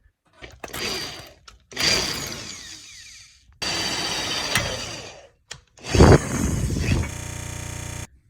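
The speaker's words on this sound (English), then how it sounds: "I want to drill some holes on these" A power drill whirs in several separate bursts of a second or two each, with short pauses between them, close up.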